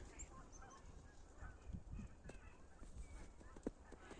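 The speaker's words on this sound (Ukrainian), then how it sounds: "І ще десь там гелготять гуси." Geese honking faintly in the distance, scattered calls over a quiet snowy outdoor background with a few soft knocks.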